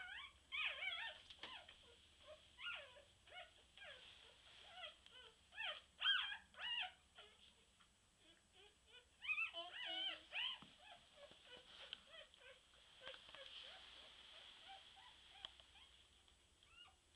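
Young puppies give repeated high, wavering whimpers and squeaks in clustered bursts, close but quiet, with short pauses between and a faint low hum underneath.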